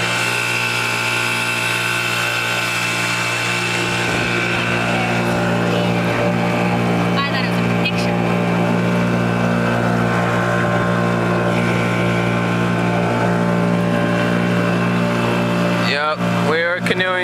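A steady motorboat engine drones throughout on a wilderness lake, with people talking over it and a brief rattling burst near the end.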